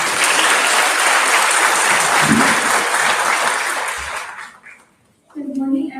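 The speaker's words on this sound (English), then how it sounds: "Let's give her a round of applause." Audience at a Roosevelt Middle School graduation ceremony in 2023 breaks into a loud, dense wash of applause that holds steady, then fades out; after a short pause, a voice begins speaking near the end.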